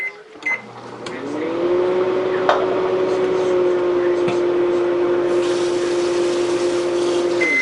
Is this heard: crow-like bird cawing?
no